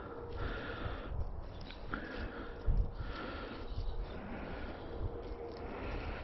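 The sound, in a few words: dog sniffing around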